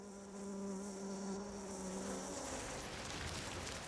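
Male bees buzz continuously and up close, with a steady droning hum that holds its pitch and then grows rougher and more diffuse, with no voices.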